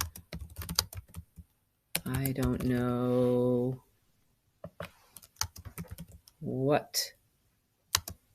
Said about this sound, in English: And let's say I've started typing,